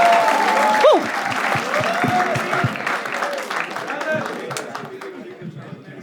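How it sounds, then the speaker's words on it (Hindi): Audience clapping at a stand-up comedy show, a broad wash of applause that starts strong and gradually thins out over several seconds, with some chatter and a voice mixed in near the start. "नेक्स्ट स्टार्ट के लिए ताली बजानी स्टार्ट करो।"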